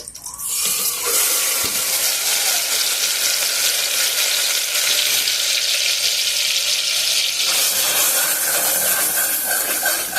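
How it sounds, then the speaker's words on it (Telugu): Onion paste drops into hot oil for a chicken curry and sets off a loud, dense, continuous hiss and sizzle that holds steady after a brief quieter start. "ఆయిల్ వేడైంది. ఉల్లిగడ్డ పేస్ట్ వేసేసుకున్నాము."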